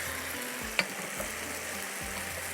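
Mutton browning in a hot pan with steady frying sizzle, a sharp clink near the start and faint stirring underneath, moderately close and continuous.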